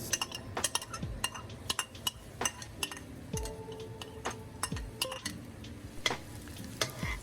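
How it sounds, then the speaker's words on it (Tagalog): Garlic sautés in hot cooking oil in a pan for pork binagoongan, a soft sizzle under frequent clinks and scrapes of a utensil stirring against the pan. "kapag mainit na ito, pwede nating ilagay ang bawang."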